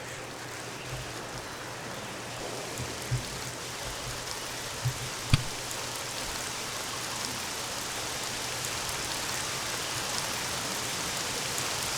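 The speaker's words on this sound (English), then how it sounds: "We have started a rainstorm. The clouds are rolling in." Steady rainstorm hiss in the CHKN video game, a constant wash of falling rain with a few faint low thumps, moderately quiet and alone without talk.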